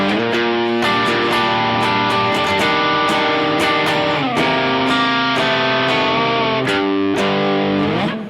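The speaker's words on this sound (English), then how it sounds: "Let's have a listen to the bridge. We'll kick on a bit of distortion for this one" Electric guitar played through the bridge pickup with a vintage PAF-type tone and mellow distortion, ringing out sustained chords continuously and loudly, with no talking.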